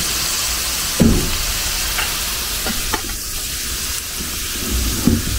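Ground meat dropped into a hot pan for lasagna, sizzling loudly and steadily up close, with a few sharp clanks and stirring scrapes.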